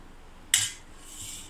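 A single sharp metal spoon clink against a pot as yogurt is added to biryani ingredients, followed by a soft scrape of mixing, close and brief in a quiet kitchen.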